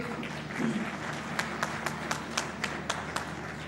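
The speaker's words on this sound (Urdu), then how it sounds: "ہاں تالی بجا کے دکھاؤ" An audience at a speech by Maryam Nawaz, Chief Minister, claps in a light, scattered way, with a few distinct sharp claps standing out over a steady background hum.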